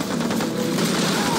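Rapid gunfire from the Scarface: The World Is Yours video game, a brief dense burst of shots heard over busy game noise.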